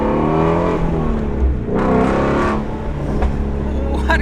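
Ford GT350 V8 engine revving hard up close, a loud rising blare that drops back and swells again, with a short pause between pulls.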